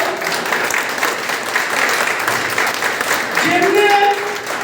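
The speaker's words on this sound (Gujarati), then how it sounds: "આવી જોરદાર તાળી કરી દો" An audience at a Thakor community leader's gathering breaks into applause, a dense, steady burst of clapping from a crowd, with a voice joining near the end.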